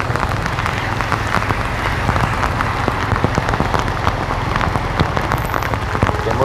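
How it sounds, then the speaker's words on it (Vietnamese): Heavy rain pours onto a street near the old market at Cau Kho in District 1, Saigon, a dense, steady hiss of drops hitting the surfaces close by, with no voices. "xem cảnh trời mưa ở chợ cũ như thế nào"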